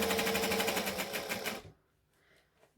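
A sewing machine quilts through layers of wadding on a Christmas tree skirt, its steady rapid stitching loud and close for about a second and a half before stopping abruptly, leaving near silence.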